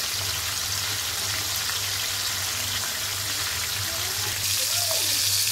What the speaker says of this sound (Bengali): এখন মাছগুলো ভাজবো।